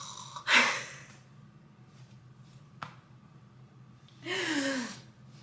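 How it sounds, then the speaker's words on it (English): A husband asleep and snoring, two deep rasping breaths spaced a few seconds apart with a small click between them, close by in an otherwise quiet room. "I didn't want to start talking because he was snoring."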